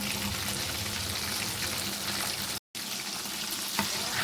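KFC-style chicken wings frying in oil, a steady broadband sizzle close up that runs almost the whole time, broken by a brief silent gap and a small clink near the end.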